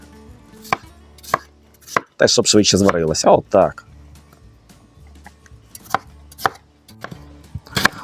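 Knife chopping potatoes on a cutting board, a series of sharp, irregular thuds close by, with a burst of speech in the middle.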